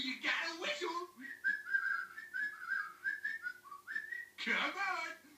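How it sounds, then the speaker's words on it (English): A South Park cartoon character whistles a short, bright tune of several rising and falling notes, with brief spoken voices just before and after. "Hey, old boys, ready to do some whistling?"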